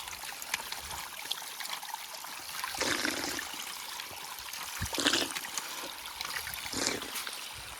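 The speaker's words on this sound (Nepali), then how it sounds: "यहाँ अगाडि चाहिँ यो मूलको पानी रहेछ होइन" Spring water flowing outdoors in a Nepali hillside village, a steady soft trickle and stream with occasional louder gushing swells, close and fairly quiet, without talk.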